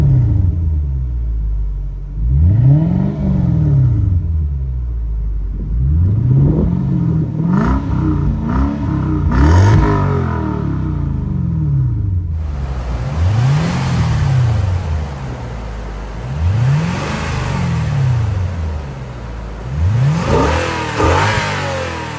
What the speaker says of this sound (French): Quelques petites montées en régime où je serai à l'arrière et puis après à l'avant pour entendre un petit peu comment ça souffle